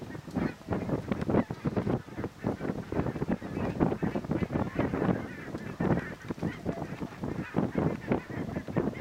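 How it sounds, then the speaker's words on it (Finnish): Geese honk repeatedly in an irregular chorus over Kortejärvi lake, a steady flurry of calls at moderate distance, with faint wind noise and no talking. "Hanhet tota laulelee tuo taustalla."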